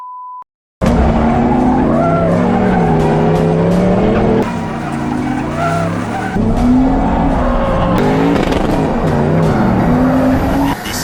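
Drift car sliding with loud, sustained tire squeal and a revving engine whose pitch rises and falls through the slide, close and continuous after a brief tone at the start.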